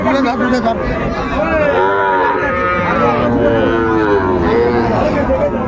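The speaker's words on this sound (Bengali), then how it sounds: "বকনা বাচ্চা।" A young Sahiwal heifer calf moos repeatedly, close and loud, over a constant hubbub of people chattering at a busy cattle market.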